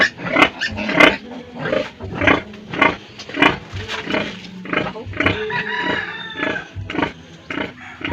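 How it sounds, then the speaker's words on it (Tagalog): Pig squeals and grunts from a sow that has just farrowed on a rural island farm, repeated in loud, close, uneven bursts with harsh harmonic cries throughout. "nanganak na yung nanganak ng baboy nila Manay Angga"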